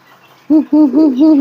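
A homing pigeon coos close by, a few soft throaty rolling calls in quick succession after a brief quiet start.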